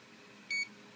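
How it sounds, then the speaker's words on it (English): A Hobbywing ESC programming card gives a single short, high electronic beep over a faint steady hiss. "I get this beep that goes on every 2 seconds or so"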